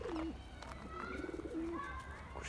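Several pigeons coo softly in repeated low, rolling calls, fairly close, over faint background noise, at a coop during evening feeding.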